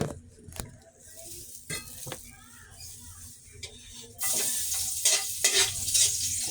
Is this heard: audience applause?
no